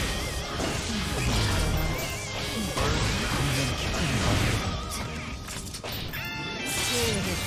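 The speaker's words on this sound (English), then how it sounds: "just a 5P disrespectful slap through the glass" In a Guilty Gear Strive fighting game match, a punch slaps a character through glass, with a loud crash and shattering against busy game sound effects and music.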